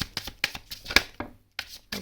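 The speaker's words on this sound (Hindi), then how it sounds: "एक शफल और करते हैं" A deck of tarot cards is shuffled by hand, giving a quick run of soft riffling flicks and taps, close and fairly quiet, with a brief gap before a few last flicks.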